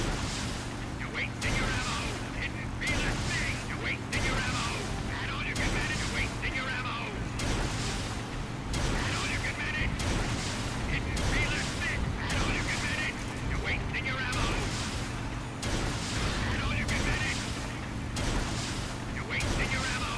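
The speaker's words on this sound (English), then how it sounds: "That's why we're spamming rocket shots into it right now" Rocket shots fired again and again in a video game, a steady run of booming blasts about every second over a constant low mechanical rumble, with a voice talking over it.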